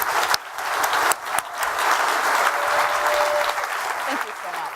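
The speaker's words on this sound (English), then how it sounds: "let's just give a huge round of applause to Elon" A conference audience gives Elon Musk a loud, dense round of applause at a fireside chat, the clapping sustained close and full for several seconds.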